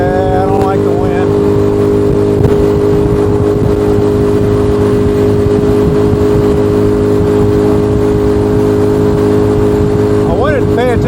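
A Honda Helix scooter ridden at speed, its steady engine drone and humming tones running continuously and loud throughout, with wind rumble underneath.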